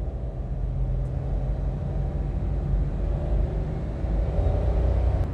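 Inside a 2019 Suzuki Alto just after a downshift from third to second gear at about 30 km/h, the engine gives a steady, close, rough low drone that fills the cabin without a break.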